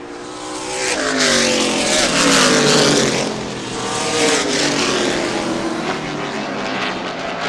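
A field of Limited Late Model stock cars roars down a short-track backstretch, loud overlapping engines swelling and fading as cars pass close by in a continuous rush.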